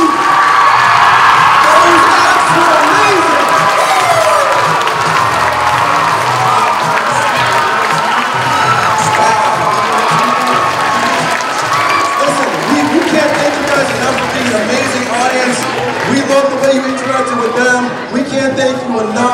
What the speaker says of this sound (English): you guys deserve a huge round of applause